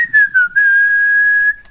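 A person whistles a steady, clear tune at close range, with a few short notes and then one long held tone, and no talking over it.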